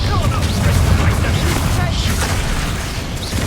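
Confringo spell blasts in Hogwarts Legacy, heavy booming explosions with crashing debris in a dense, loud battle mix, with voices talking over them.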